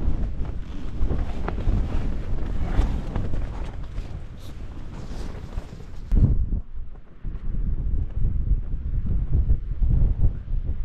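Strong storm wind buffets a tent pitched on an exposed hilltop in Northumberland, roaring loud and continuous with rough gusting surges and microphone buffeting throughout, easing briefly before building again.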